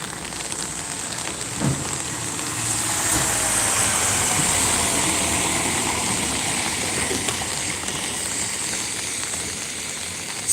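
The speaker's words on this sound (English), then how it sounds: "It's the biggest truck in the world." A large truck rumbles past in heavy rain; its engine noise swells through the middle and eases off while a steady patter of rain continues throughout.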